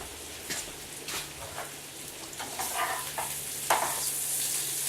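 Onions caramelize in a frying pan for liver and onions, a soft, steady sizzle with scattered crackles and light spatula scrapes, fairly quiet and close, no voices.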